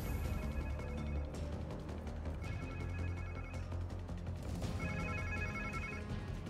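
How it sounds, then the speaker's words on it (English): A telephone rings repeatedly in Spider-Man 2, with bursts of electronic bell tones that stop and start over a steady bed of game ambience and music. "Where is the phone?"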